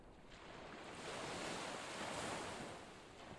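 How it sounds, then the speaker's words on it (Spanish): Sea waves rolling in and retreating, a broad continuous wash of surf that swells louder in the middle and eases again, with no voices present. "Ahora lleva tu atención al sonido constante del mar, al ir y venir de las olas, una tras otra."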